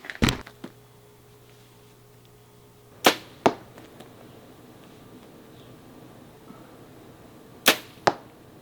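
Arrows loosed from a bow at a target on a ranch, four sharp impacts in two pairs, each a crisp thwack followed by a second smack a moment later, set against quiet outdoor background.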